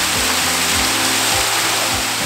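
Waterfall pouring over ice at Willoughby Lake, a loud, steady broadband rush of falling water filling the whole clip, with no voices.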